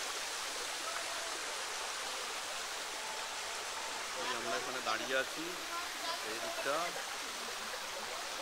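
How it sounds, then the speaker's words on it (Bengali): Water from Hudhudi waterfall flows past as a faint, steady rushing hiss. Someone speaks over it partway through. "হুদহুদি ঝর্ণার জল যাচ্ছে এদিক দিয়ে"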